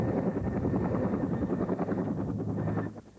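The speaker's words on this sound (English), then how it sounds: "Using helicopters purchased with help from the United States and poorly paid but highly motivated officers, General Gomez is out to do to cocaine produ" A helicopter, bought with United States help for Colombian police, flies close and loud with a fast, steady rotor chop that fades slightly at the end.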